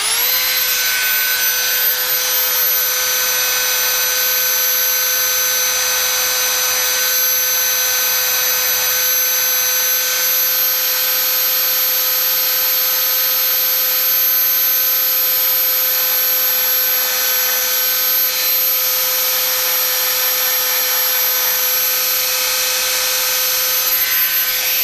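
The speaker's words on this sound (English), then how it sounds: "what I'm going to do right now is sand this down and take this bolster off" A power sander grinds down the bolster on an old scout knife during a restoration, giving a steady, loud, high whine with a hissing edge that runs unbroken through the whole stretch with no talking.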